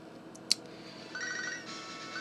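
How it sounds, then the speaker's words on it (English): A phone call rings in Pokemon Soul Silver, a sharp chirp followed by a short electronic ringing tone, moderately loud and alone. "And we're getting a phone call"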